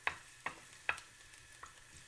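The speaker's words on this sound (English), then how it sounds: "in goes my garlic. Let that sizzle away" Garlic is frying in a pan for a vegan beefsteak mushroom steak. Three sharp utensil scrapes and clacks stand out over a very quiet, soft sizzle, with no voices.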